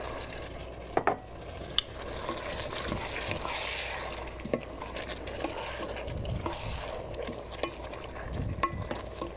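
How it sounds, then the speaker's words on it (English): Canned pears tipped into a hot pan with all their juice, sautéing steadily with a soft, continuous sizzle and bubbling, plus occasional clicks of a utensil stirring against the pan. "I'm going to let this saute for a few more minutes"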